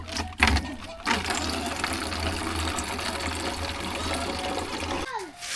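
Steady rushing mountain spring water flows continuously into a bottle, a broad hiss with faint low hum, briefly interrupted near the start and ending abruptly.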